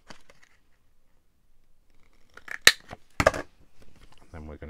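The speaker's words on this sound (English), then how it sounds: "Okay, so just gonna snip these corners." Scissors snip the corners of paper in a few sharp, close cuts, separated by quiet pauses, with a voice speaking at the end.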